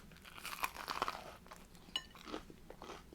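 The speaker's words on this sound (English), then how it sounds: "it's been nicely browned, so you got that good crunch to it" Someone bites into a browned wasabi tuna melt with cheddar on toasted rye, giving several loud, close crunches followed by chewing.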